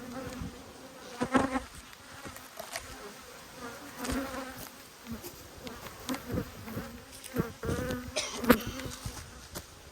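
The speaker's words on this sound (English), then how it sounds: "I've got a lot of bees around me at the moment." Bees swarm and buzz close around a beekeeper during a hive inspection in Australia, a dense continuous drone with individual insects whining past the microphone now and then.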